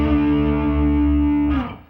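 Distorted electric guitar power chord held with a slide and hammer-on, a loud sustained buzzing tone that shifts pitch near the end before cutting off.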